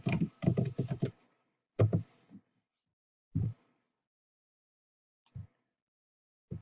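A search typed on a computer keyboard while using Cricut design software: a quick burst of key clicks, a second short run, then a few isolated taps spaced out over quiet, with no talking.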